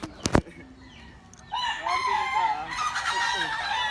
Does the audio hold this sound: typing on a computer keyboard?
no